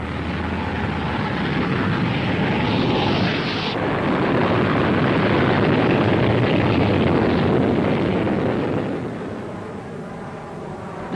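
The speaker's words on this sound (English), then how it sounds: "On becoming airborne, the undercarriage was jettisoned, and the aircraft demonstrated an amazing rate of climb." A 1941 rocket-powered aircraft taking off, dropping its undercarriage once airborne and climbing very steeply. A loud, continuous broadband roar holds steady and swells slightly through the middle, then eases off.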